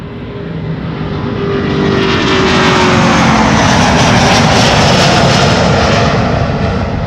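Delta Air Lines Airbus A330neo jet bound for New York JFK, its engines building from a distant whine to a loud, broad roar that holds steady as the airliner passes close by, with no voices.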